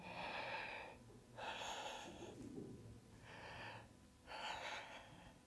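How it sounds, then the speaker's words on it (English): Slow, deep yoga breaths taken while holding bow pose, with four long airy inhales and exhales in a steady rhythm, close and quiet with no talking. "Just deep breathing."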